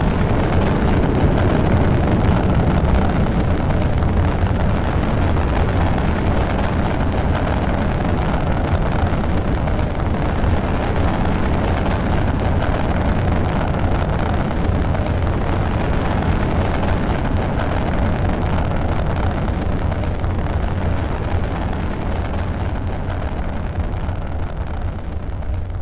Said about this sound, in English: Blast off!